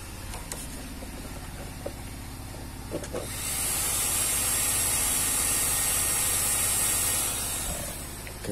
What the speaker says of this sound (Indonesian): jadi kipas radiatornya itu saya sambung langsung gengs ya